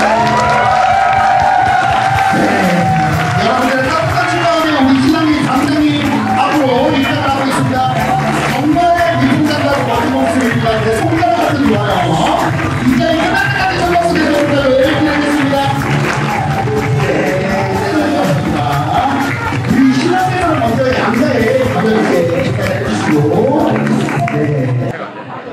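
Guests at a Korean wedding cheer, whoop and clap loudly as the groom makes his entrance, a lively crowd roar with many voices shouting throughout.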